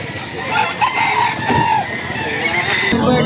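Rooster crowing among chickens offered for sale at a market in Lipa City, Batangas, a loud, close drawn-out crow amid clucking and general bustle.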